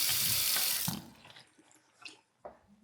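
A bathroom sink faucet in a 2003-built house with dual vanities gushes loudly for about a second, then cuts off, leaving a few faint drips and clinks in a quiet room.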